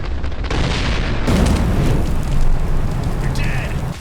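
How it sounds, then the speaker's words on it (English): A barrel explodes in the top-down shooter Postal Redux, a loud booming blast followed by roaring fire and rumble that swells again midway, with game effects layered on top. "Environmental destruction is fun overall, but barrels explode"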